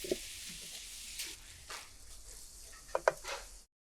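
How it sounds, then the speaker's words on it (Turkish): Soft sizzling of grated zucchini frying with garlic in a pan, with scraping spatula stirring strokes, a couple of sharper utensil clinks near the end, no talking. "Kızarmış sarımsaklı tavada kızartın."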